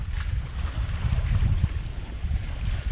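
A sailboat moves at about four knots across a calm sea, with a steady low rush of wind and water against the hull and soft wind buffeting on the microphone, no voices.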